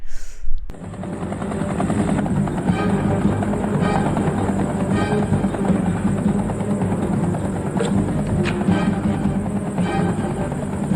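A helicopter's rotor thumps steadily and loudly throughout, a dense continuous drone with rhythmic chopping, heard close without any voices.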